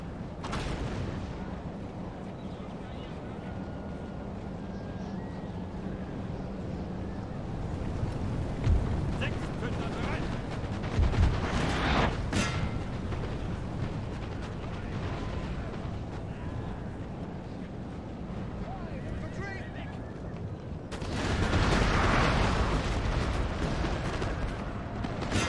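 Musket volleys and artillery fire in the Napoleon: Total War battle sound repeatedly against enemy cavalry and infantry, a dense rumbling barrage with sharp cracks over a continuous roar and a louder surge near the end.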